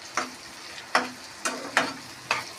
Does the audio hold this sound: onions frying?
yes